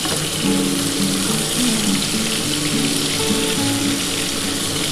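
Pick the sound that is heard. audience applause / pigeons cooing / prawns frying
prawns frying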